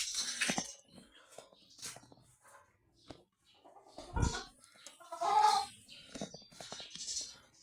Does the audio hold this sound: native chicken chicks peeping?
yes